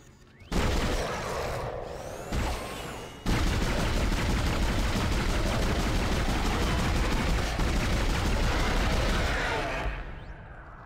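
Gunfire in Dead Space: a loud burst, then after a short pause a long, sustained stretch of rapid shooting that thunders steadily before tapering off at the end.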